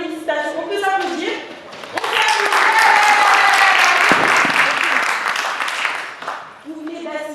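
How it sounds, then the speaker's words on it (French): An audience at the final of a French public-speaking contest in Saint-Denis bursts into loud, sustained applause lasting several seconds, with someone speaking briefly just before and after. "On peut s'applaudir."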